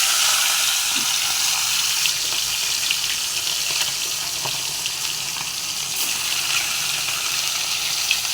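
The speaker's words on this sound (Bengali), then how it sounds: "তেল গরম হয়ে গেছে, এবার এক এক করে মাছের মাথাগুলো ছেড়ে দেব।" Fish heads fry in hot oil, a loud, continuous hissing sizzle that stays steady throughout with a few small pops.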